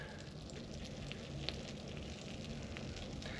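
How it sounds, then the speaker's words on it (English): Steady crackling sizzle of homemade pizza crust frying in a hot pan, continuous and close, with faint pops and no talking. "Hear that sizzling? I love that sound."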